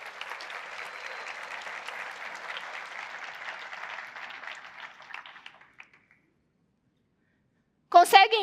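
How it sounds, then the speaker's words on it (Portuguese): An audience claps steadily at a church gathering for about five seconds, then fades to near silence before a short burst of sound returns at the end. "Dá uma salva de palmas para eles."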